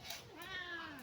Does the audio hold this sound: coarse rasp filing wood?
no